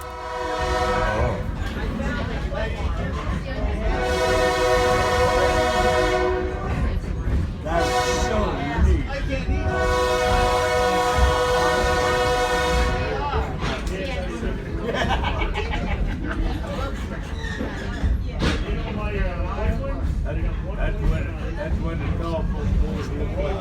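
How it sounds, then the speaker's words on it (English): A train rumbles past close by in downtown New Columbia, Pennsylvania, its horn blaring in two long blasts over the steady clatter of the cars, with faint voices in the background. "I filmed this clip as the train passed through downtown New Columbia"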